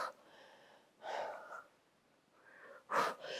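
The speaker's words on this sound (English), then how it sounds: "Exhale as we lift and twist." Breathy, forceful exhales and wheezy inhales from a woman doing a mini band ab exercise, several uneven breaths heard up close with no speech over them.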